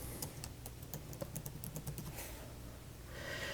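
Fingers type on a computer keyboard in a rapid, uneven run of light clicks and taps, close and fairly quiet, while a text field is filled in.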